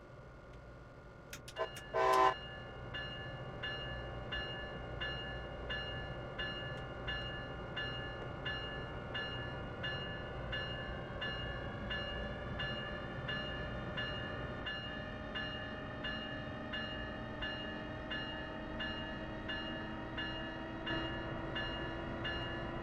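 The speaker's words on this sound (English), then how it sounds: "Does it really have to ring the bell all that length of time?" Locomotive bell ringing steadily inside an enclosed station in Train Sim World, a long run of regular metallic strokes over a constant engine hum, with a brief louder burst near the start.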